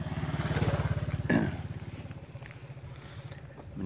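A motorcycle passes close by on a rural road through rice paddy fields in the early morning, its engine putting out a steady buzzing throb that swells as it nears and then fades gradually as it rides away.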